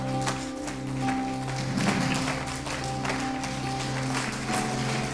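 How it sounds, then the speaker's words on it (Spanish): A church congregation applauds during a Sunday service, a dense steady wash of clapping that fills the room from start to finish, with a sustained musical tone humming underneath. "dale un aplauso fuerte al Señor"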